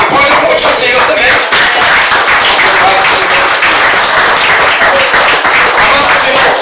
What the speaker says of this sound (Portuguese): E pode aplaudir o Senhor também.